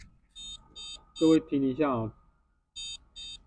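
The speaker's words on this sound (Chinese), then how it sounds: "这个是有哔哔哔的声音。" An old desktop PC, long unused, beeps through a newly fitted PC speaker when powered on: two clear pairs of short electronic beeps, with someone talking briefly between them.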